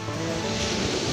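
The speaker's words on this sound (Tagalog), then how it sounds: "Lakas ng alon." Strong sea waves crash and surge close by on a shore, a loud, continuous roaring wash with no voices over it.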